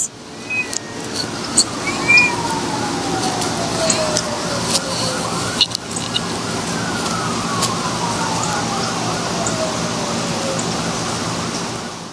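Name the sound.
emergency vehicle sirens outdoors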